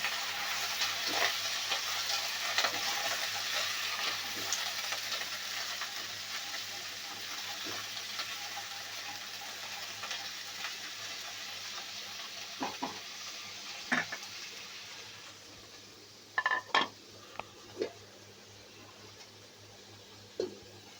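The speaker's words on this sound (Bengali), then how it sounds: "মূলা বেগুন আলু এভাবে সুন্দর করে কেটে পরিষ্কার করে ধুয়ে নিয়েছি দিয়ে দিলাম নেড়ে ফেড়ে দেবো" Radish, eggplant, potato and vegetable stems stirred and fried in a pan: a steady low sizzle with soft scraping stir strokes, then a few sharper clinks of utensil against pan near the end.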